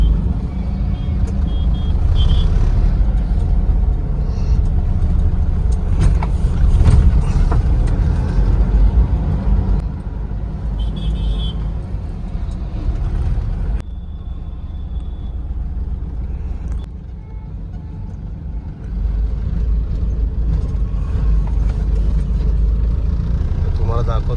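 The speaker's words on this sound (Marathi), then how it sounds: "डायव्हर्जन आहे त्याच्यामुळे थोडंसं ते ट्रॅफिक लागतंच" Steady road traffic rumbles at a highway construction diversion on the Mumbai to Nashik route, heard from inside a moving vehicle as a continuous low drone of engines and tyres with occasional passing swells and no talking.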